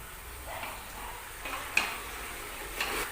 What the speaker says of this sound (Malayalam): ഇനി ഹൈ ഫ്ലെയിമിൽ ഒരു 5 മിനിറ്റ് വഴറ്റാം.